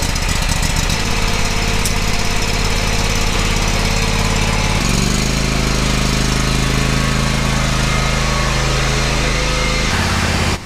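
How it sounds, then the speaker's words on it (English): A John Deere X300 lawn tractor engine runs steadily as it warms up, a loud close rumble with a shift in tone partway through, and no one speaking. "I need to get it warmed up just for a little bit to make the oil flow a little better when we pull the plug"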